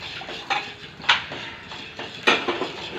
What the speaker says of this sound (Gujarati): આવી રીતે આમ હલાવવા મળવાનું.